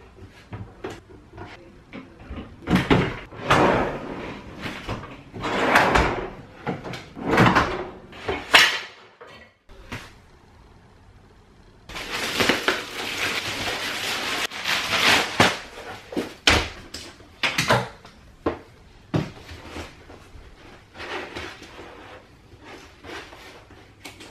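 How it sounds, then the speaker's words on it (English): Drawers of a brand-new cabinet with loose, falling-apart drawers are repeatedly pulled open and pushed shut, a series of close wooden knocks and sliding scrapes with a brief pause midway. "Brand new cabinet, the drawers are falling apart on its own."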